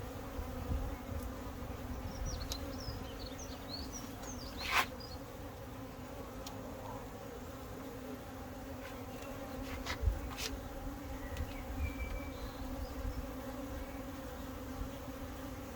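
Honeybee colony buzzing as a hive is opened for a swarm-cell inspection, a dense steady drone of many bees up close, with occasional sharper buzzes of individual bees flying past and a few faint clicks.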